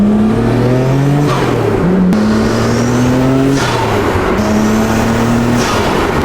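A Nissan GT-R's RB engine revs loudly and repeatedly nearby while warming up, pitch climbing and dropping in several surges with sharp exhaust pops between revs.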